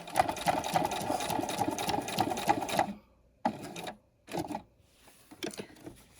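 A sewing machine stitches a backpack strap, running in one steady, close burst for about three seconds, then in a few short start-stop spurts with quiet gaps between.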